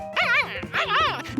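A cartoon dog in Curious George gives two drawn-out, wavering bark-whines in quick succession, loud and close, with no talking over them.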